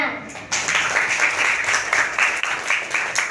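Sixth-grade elementary school children in a classroom clap together in a fairly loud, rhythmic burst pattern. It starts abruptly after a short quiet moment, with voices mixed in.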